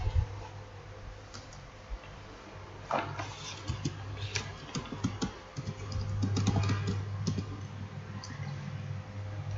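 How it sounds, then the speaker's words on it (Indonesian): Typing on a computer keyboard while entering an entity name for an entity relationship diagram: irregular bursts of light, close key clicks over a low steady hum, with no speech. "Di sini kita ketik nama entitasnya."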